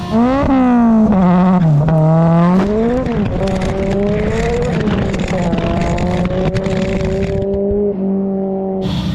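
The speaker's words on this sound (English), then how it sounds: "This thing, when you do a burnout, is like hopping back and forth because it's so light." A 515-horsepower rear-wheel-drive Honda Civic does a burnout, its loud engine revving and wavering up and down in pitch close by, with tire squeal mixed in and no talk.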